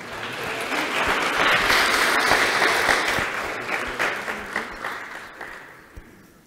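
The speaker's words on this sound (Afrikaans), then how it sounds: "Ons kan hulle aan 'n klap gee" Church congregation applauding a family at a baptism, steady clapping that builds, holds, then thins out into scattered final claps.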